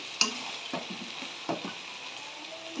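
Mola fish curry sizzles in a pan, with a steady close crackle and a few soft stirring scrapes at intervals.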